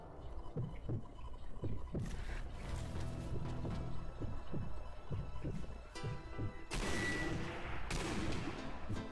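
Sniper rifle shots in Zombie Army Trilogy ring out as several sharp cracks spaced apart among other thuds and in-game noise, with a loud burst of noise near the end.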